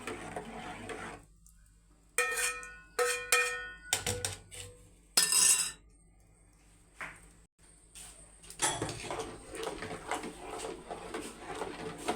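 Bursts of scraping and rattling as a spoon stirs ghee-fried nuts, coconut pieces and raisins around a metal pan for rice payasam, with quiet pauses between rounds.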